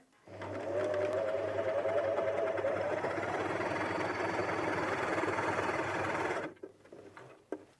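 A Janome 423S sewing machine stitches through thicker fabric in one steady, continuous run of about six seconds, close and even, before stopping with a few light clicks.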